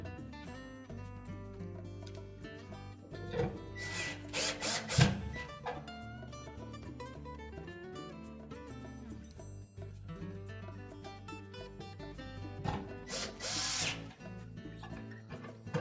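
A power drill drives screws into a Whirlpool dryer in short whirring bursts separated by pauses and light metallic handling clatter, quiet and close.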